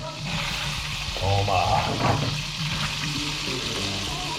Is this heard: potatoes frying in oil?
yes